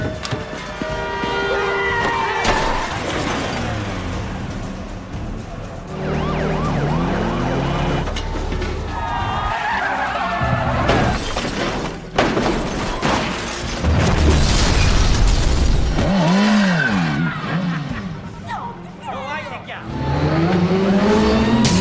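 A car chase from an action film about a courier: engines roar and tires screech amid siren-like wails, crashes and dense layered effects, loud and continuous throughout with music woven in.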